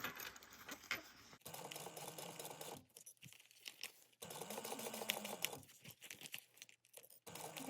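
A sewing machine bastes a seam 1/8 inch in on a crossbody bag, with faint bursts of stitching and quieter pauses between them, close but low in level.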